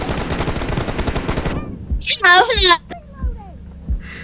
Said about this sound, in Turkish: İki mermi vurdum